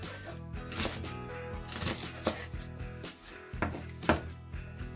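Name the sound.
knife slicing leeks lengthwise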